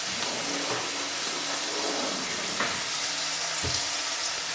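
Leeks and potatoes sautéing in a pot, giving a dense, continuous sizzle with a few soft clinks and stirring bumps, close and steady throughout.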